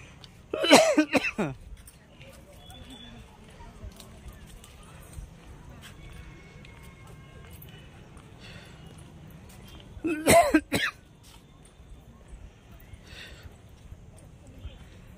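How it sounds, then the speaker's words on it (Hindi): A person on a walk up a hillside path coughs in two loud, short bursts about ten seconds apart, with quiet outdoor background in between. "तो फेफड़े जब फूल जाते हैं तो निकलती है खांसी इस तरह से।"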